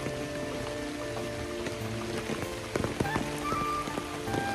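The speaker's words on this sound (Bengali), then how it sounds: "প্রচুর বৃষ্টি।" Heavy rain pours steadily on a village among peanut fields, a dense, continuous patter on surfaces and leaves, close and enveloping, with a few louder drips and splashes near the end and no talking.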